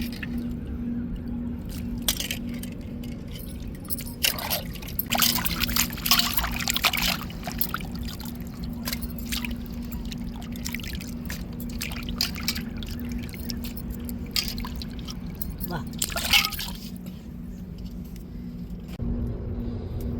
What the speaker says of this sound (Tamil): இப்படி மீனை நல்லா கழுவி எடுத்துக்கிறானுங்க